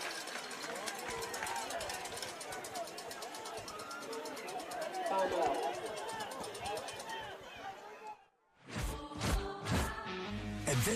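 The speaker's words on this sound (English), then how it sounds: "And this crowd, to say the least, is into it." Crowd noise in the stands at a high school playoff football game, a dense roar of cheering and chatter that holds steady before dropping away, then giving way to louder clattering sounds.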